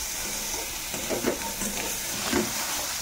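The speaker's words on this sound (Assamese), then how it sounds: "এইটো ভালদৰে ভাজি ল'ব লাগিব।" Jackfruit seeds frying in a pan over a gas flame for a homemade Assamese khar dish, giving a soft, steady sizzle with occasional stirring scrapes, close by and fairly quiet.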